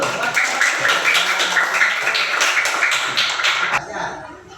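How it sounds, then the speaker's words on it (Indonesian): Schoolchildren in a classroom applaud together, a dense, steady burst of clapping lasting nearly four seconds before stopping abruptly. "Kasih tepuk tangan dulu."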